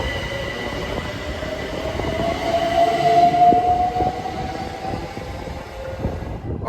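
A Class 379 electric multiple unit pulls into Ely station, its motors whining as a steady high tone that rises and then fades, over a continuous rumble of wheels and track with no one speaking.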